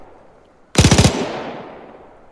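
A machine gun in the Arma 3 video game fires one loud, close burst of about five rapid shots. A long rumbling echo trails away afterward, with no speech.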